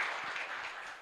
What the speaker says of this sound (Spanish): Fuerte aplauso entonces, queridos hermanos.